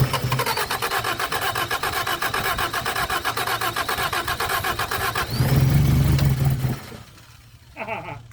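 A 1978 Honda Civic that sat for 26 years cranks with a fast rhythmic starter chatter, then catches and revs loudly under throttle before dropping back, close up with a brief voice afterward.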